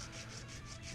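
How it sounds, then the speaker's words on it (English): A guitar nut rubbed back and forth on 150 grit sandpaper, a soft, close, steady scratchy rasp with a gentle repeating stroke rhythm and no talking. "So just using 150 grit sandpaper"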